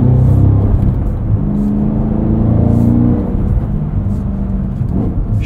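Cadillac CT5-V Blackwing engine pulling steadily while driving on the road, a loud, continuous low drone with shifting harmonic tones as revs rise and fall, heard from inside the car without talk.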